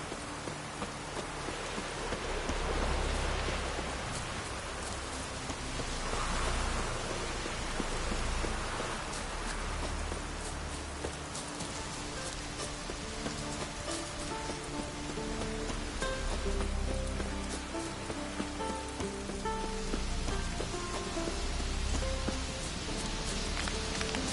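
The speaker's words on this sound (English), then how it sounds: "raining again." Steady rain patters and hisses across surfaces, soft and continuous, with a low rumble swelling underneath and faint tonal notes in the background.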